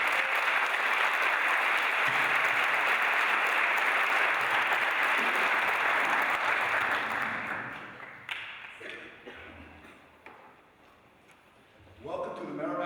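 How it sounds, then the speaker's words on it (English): A large crowd at a congressional debate applauds loudly and steadily for several seconds, then the clapping fades into scattered claps and room noise. "Give him a great round of applause."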